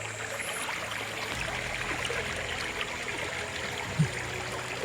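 Cool river water flowing near the limestone hill Gunung Reng in Jeli, Kelantan, a steady broad rushing wash heard throughout at moderate distance, with no speech.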